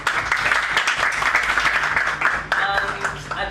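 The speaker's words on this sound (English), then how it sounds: "please, once you give yourself a very big round of applause." Graduation ceremony audience applauding, a dense continuous wash of many hands clapping that holds steady throughout, with a voice briefly audible over it near the end.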